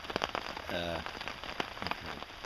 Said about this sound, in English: I've been just listening to the rain